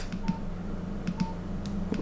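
Keypad tones of a Nokia 2700 Classic sound while its menus are navigated: short, soft beeps come in small clusters about once a second over a low steady hum, with no talking.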